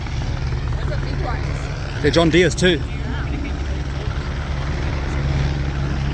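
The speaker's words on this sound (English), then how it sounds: "Helicopter right there, which you recently just saw me on." A helicopter's steady rotor drone fills the grounds of an agricultural show, loud and constant from start to finish. Someone speaks briefly over it partway through.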